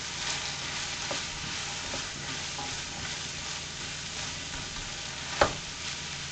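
Potatoes, carrots and bacon fry in a pan with a steady, close sizzle throughout, broken by a few stirring scrapes and one sharp clack near the end.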